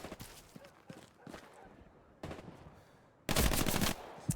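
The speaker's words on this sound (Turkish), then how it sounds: "Makine vurmaya çalışıyor beni birisi." Machine gun fire in the World War II shooter Hell Let Loose, scattered bursts and shots at mid distance followed by a loud sustained burst near the end.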